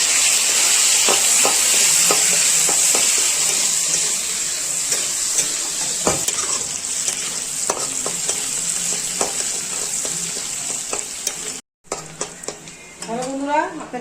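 Chopped onion and three green chillies sizzle in hot oil with whole cumin for a prawn curry, a loud, steady frying hiss broken by stirring clicks and one brief pause, with a voice faintly heard near the end.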